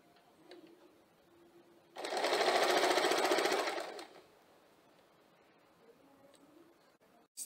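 Sewing machine stitching dori piping onto fabric, a single steady run of rapid mechanical clatter lasting about two seconds, close and fairly loud against a quiet room.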